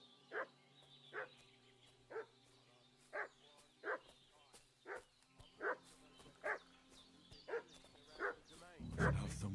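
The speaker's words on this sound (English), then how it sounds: "What's that dog making such a fuss about?" Dog barking in the video game Kingdom Come Deliverance 2, a steady series of about ten evenly spaced sharp barks at moderate distance, with a low background hum and a louder rumble at the very end.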